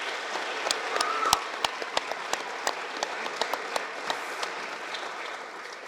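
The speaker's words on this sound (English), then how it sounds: "Please give Dave Loring Video Productions and our sponsors a round of applause." An audience applauds at the Fruitport Hall of Fame 2022 ceremony. Distinct claps start fairly dense, then thin into scattered individual claps as the applause dies away.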